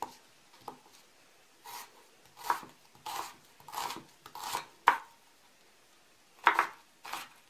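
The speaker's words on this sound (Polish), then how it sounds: "Cebulę pokroję w bardzo drobną kostkę." An onion being finely diced with a knife on a board, a series of crisp, close chopping taps in uneven bursts, some sharp single strokes between quieter pauses.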